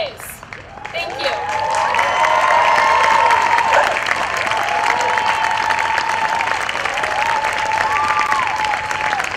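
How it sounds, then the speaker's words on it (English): Crowd applauding and cheering at an outdoor rally against a freeway expansion, a steady dense wash of clapping that swells after the first second and holds loud throughout, with voices calling out over it. "Yeah, keep applauding, right?"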